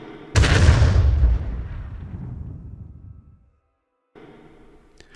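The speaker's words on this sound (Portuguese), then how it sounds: "E ela atirou." A single loud shotgun blast in a dramatized horror story about a devil on horseback, hitting hard and then rolling away in a long decaying boom, followed by a short stretch of quiet before faint ambience returns.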